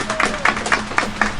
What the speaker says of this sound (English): I hope you all will join me in a round of applause for the Senator